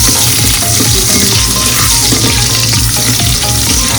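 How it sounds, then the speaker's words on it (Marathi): Garlic and curry leaves fry in oil in a pan over medium heat for a Malvani prawn curry, giving a loud, dense, continuous sizzle with faint stirring scrapes close by. "आपण लसूण नंतर कढीपत्ता टाकून घेतला आहे। आता आपण चांगला फ्राय करून घ्यायचा।"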